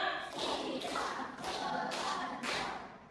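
A classroom group claps in a counted pattern, five distinct broadband bursts spaced roughly half a second apart, moderately quiet and set back in a reverberant room.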